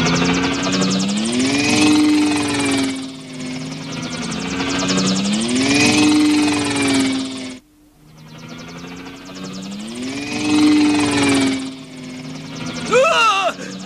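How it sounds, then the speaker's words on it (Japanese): A helicopter flies overhead with a loud, throbbing rotor drone that swells, fades briefly and returns, dominating the scene in a vintage Japanese puppet drama, with a faint whistling sound at the end. "あのヘリコプターの飛び方は交通違反だ"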